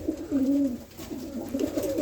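Roller pigeons coo in a full kit box, a close, repeated low rolling coo in two phrases over a soft background, with no voices.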